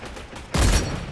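A single heavy sniper rifle shot in the vampire battle royale game Bloodhunt, one sudden loud boom halfway through after a quiet moment, ringing briefly before it fades.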